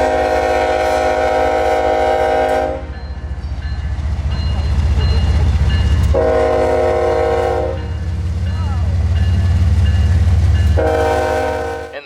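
A CSX freight juice train departing on the Palmetto Subdivision near the Manatee River bridge sounds three loud, long horn blasts over a heavy, continuous locomotive rumble close by.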